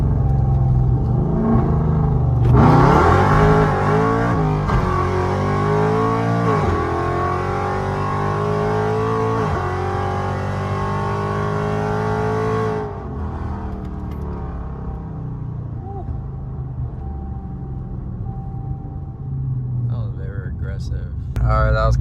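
A Dodge Charger RT with a Hemi V8 and modified exhaust rumbles at idle, then roars through a hard full-throttle pull with rising revs and gear shifts before settling back to a low burble; heard from inside the car.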